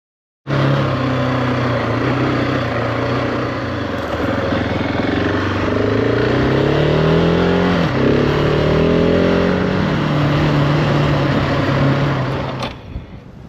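A GasGas ES 700 dual-sport bike on its first ride over dirt and gravel, engine droning loudly and continuously with rising and falling revs and wind rush, then abruptly cutting off near the end.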